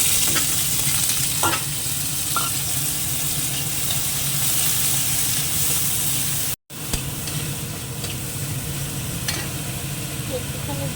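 Chopped onion, shrimp and green chili fry in a pan with a loud, steady sizzle and scraping stirs, broken by a brief cut in the sound.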